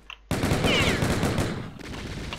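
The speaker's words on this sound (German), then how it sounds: "wir haben 10 Schuss mit der Gatling" Rapid, continuous Gatling gun fire in the game FreeDoom, a dense stream of shots lasting about a second and a half before dropping to a lower rattle.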